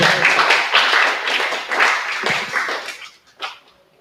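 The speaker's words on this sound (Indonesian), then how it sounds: "Berikan tepuk tangan untuk Ali Rauf." Classroom applause as students clap for a classmate's correct answer in an automotive lesson, lively clapping from a group that thins and fades out, followed by a single sharp knock near the end.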